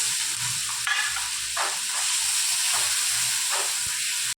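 Cumin paste hitting a hot pan with ginger paste, a loud continuous hiss and sizzle, with brief stirring scrapes recurring every second or so.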